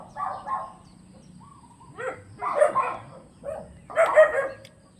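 A dog barks outdoors in the provinces, several short, rough barks coming in clusters over steady background noise, at moderate distance.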